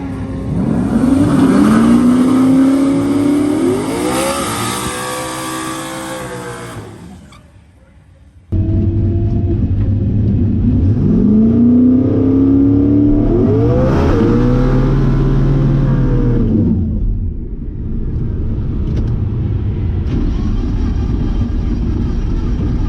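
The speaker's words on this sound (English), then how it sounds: "We go up to do the burnout" A drag car does a burnout at the drag strip, the engine revving loudly in rising, wavering pulls, cutting out briefly, then roaring again through two long bursts before settling to a rough idle.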